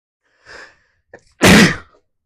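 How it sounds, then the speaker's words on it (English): A single loud sneeze, preceded by a soft inhaling gasp and a brief catch of breath, close to the microphone and otherwise quiet. "I did not intend to sneeze on video today."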